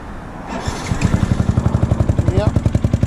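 A Yamaha YZF-R125 motorcycle with an upgraded exhaust putters up, then settles into loud, rhythmic exhaust pulses that repeat steadily and close by.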